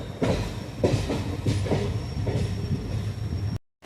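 A Tiruvannamalai–Tambaram express passenger train rumbles along steadily, wheels clattering rhythmically over the rails with a low hum, close by, then cuts off abruptly.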